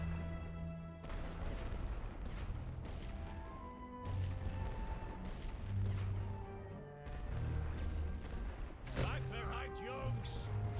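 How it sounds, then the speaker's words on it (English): Artillery fire booms in the World War I strategy game The Great War: Western Front, with dull thuds and crashes over a dense, continuous battle soundtrack under speech. "Apparently they can target with artillery there."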